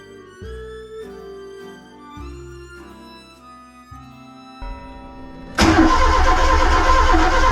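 A 1978 Matra Simca Bagheera X engine cranks and fires up at about 5.5 seconds, roaring into a loud, steady run after a stretch of quieter music-like tones.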